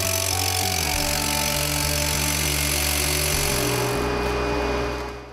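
Powered drilling into a chalet foundation for 25 mm injection holes, a loud, steady grinding whine with shifting motor tones that runs continuously and then eases off at the end.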